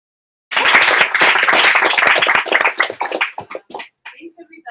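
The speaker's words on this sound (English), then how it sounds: "we'll start clapping for Taryn" An audience at a Show & Tell talk breaks into dense clapping that holds strong for a few seconds, then thins into scattered claps and fades out.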